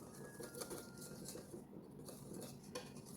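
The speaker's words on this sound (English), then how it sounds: "So after sieving in your flour, you whisk it in again" A hand whisk beats sieved flour into an egg and sugar batter for waffle cones, a fast continuous clatter of wire against a bowl with small uneven bursts, close and moderately quiet.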